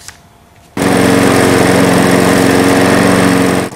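A lawn mower in Azerbaijan starts up abruptly after a quiet moment and then runs loud and close with a steady, droning engine roar that holds at one level, with no speech.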